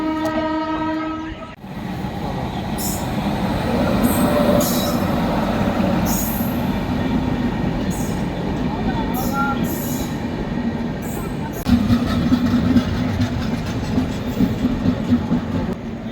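The Howrah Malda Intercity train passes on the rail line near Bolpur: a horn blares at the start, then a loud, steady rumble of wheels and carriages with squealing and clattering throughout.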